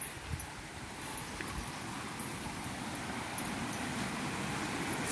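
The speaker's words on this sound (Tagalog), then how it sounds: "yung tunog ng agos ng falls" Steady broadband rush of flowing water fills the scene continuously, a constant hiss and rumble from the nearby Busay Falls on Camotes Island, with no talking.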